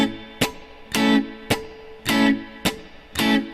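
Muted reggae upstroke strumming on a Strat-style electric guitar: sharp percussive chord chops alternating with short muted strums in a steady, even rhythm, close and clear with no voice.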